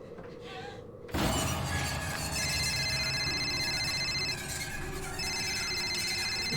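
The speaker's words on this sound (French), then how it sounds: "C'est un 3310 ou quoi pour avoir une sonnerie pareille?" A Nokia 3310-style phone ringtone in the horror game I Saw Black Clouds starts abruptly after a quiet moment. Its bright, beeping tonal melody repeats loudly and continuously to the end.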